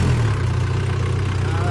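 A tractor engine idles with a steady, loud, low chugging rumble close by as people climb aboard in a village field, with voices talking over it.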